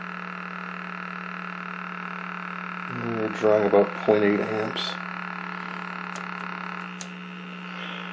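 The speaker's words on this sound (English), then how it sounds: "So the buzz is clearly related to the vertical." A Meck XB-702 television under restoration gives off a steady, loud electrical buzz in its audio caused by the vertical circuit, droning without a break while someone speaks briefly over it.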